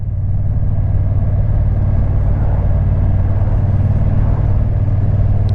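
Honda NT1100 motorcycle in Sport 1 mode riding twisty roads, a steady loud engine drone with road rumble throughout, no gear changes or pauses.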